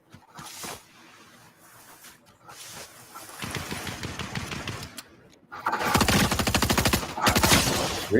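Rapid automatic gunfire from a video game rattles in two long bursts, louder and denser in the second, after a quieter stretch of scattered shots.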